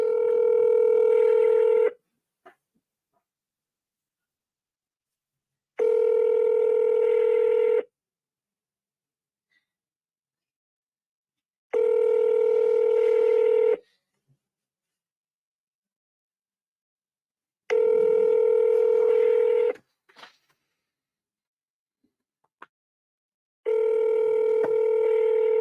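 Repeated electronic telephone ringback tones: five loud, steady two-second bursts separated by about four seconds of silence, with faint clicks between, while a call is being connected.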